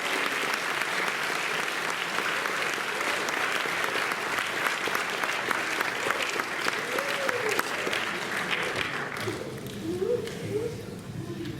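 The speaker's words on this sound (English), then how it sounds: "we invite you to applaud as we welcome the candidates, Senator Cathy Breen and Senator Barton Ladd" A debate audience applauds to welcome two state senate candidates: sustained, dense clapping from a crowd, loud and steady for about nine seconds, then thinning out as voices take over near the end.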